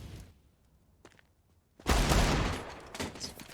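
Gunfire in a Counter-Strike match, a few sparse pops at first, then a sudden dense burst of rapid shots with loud booming impacts, alone without talk.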